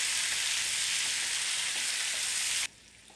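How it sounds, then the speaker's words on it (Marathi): Chopped tomato sizzles in a pan of browned onions for paneer butter masala, a loud, steady hiss of frying that cuts off abruptly near the end and leaves only faint background. "आता आपल्याला त्यामध्ये टोमॅटो घालायचा आहे. टोमॅटो व्यवस्थित मिक्स करून घेऊया."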